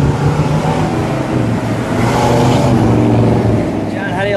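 A blue 1964 Pontiac GTO post coupe with a 389 V8 pulls away, its deep engine rumble steady and fairly close, with voices talking over it.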